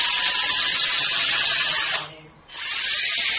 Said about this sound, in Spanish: Es un taladro.